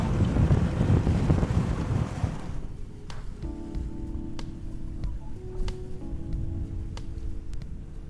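A sailboat making 8 knots through swirling, fast-moving current: loud wind buffeting and rushing water for the first few seconds, then a calmer steady hull-and-water wash with faint creaks and taps.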